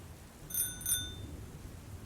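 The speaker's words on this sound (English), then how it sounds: "It was the sound of my bike bell that brought me out." An old bicycle bell rings twice in quick succession, with clear metallic tones fading over a faint low rumble of rain and distant thunder.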